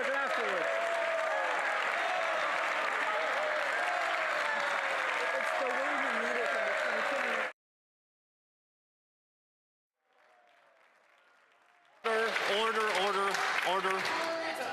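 Members in the House of Commons chamber applaud in a sustained burst while voices talk over it; the sound cuts out abruptly, a brief quiet passage follows, then clapping and speech resume loudly.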